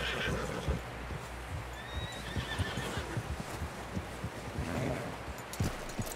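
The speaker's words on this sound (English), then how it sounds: "Someone help John down off this horse" Horse whinnies and neighs mixed with clip-clopping hooves in the Red Dead Redemption video game, fairly faint and steady against a busy background.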